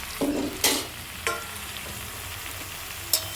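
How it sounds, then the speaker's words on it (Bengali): Bottle gourd pieces tipped into a hot pan and stirred, a soft continuous fry with a few distinct scrapes and clatters spaced out, close up with no voices. "এবার লাউটা কিন্তু এবার আমি দিয়ে দেবো এখানে পুরোটাই"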